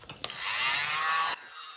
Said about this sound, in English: Use my mini blower.